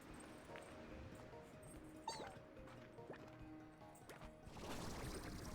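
A pet dog, just woken, gives a sharp yip followed by soft whimpering and a few muffled barks, faint under a low background hum.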